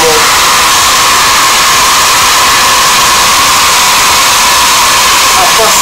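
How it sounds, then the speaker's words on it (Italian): A hair dryer blows steady, loud hot air to heat and shrink a wrap sleeve over an 18650 lithium battery, a continuous broadband whoosh with a faint whine that stays constant throughout. "accendiamo il phon e facciamo un po' scaldare"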